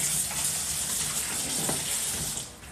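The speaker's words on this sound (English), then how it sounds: "I'm gonna rinse my potatoes off" Tap water running steadily over potatoes being rinsed at a kitchen sink, a continuous close splashing hiss that eases slightly toward the end.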